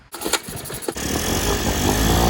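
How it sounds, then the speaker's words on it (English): A few pulls and sputters, then a small outboard boat motor catches and settles into a steady, loud, buzzing run, in Maine. "We got the outboard going."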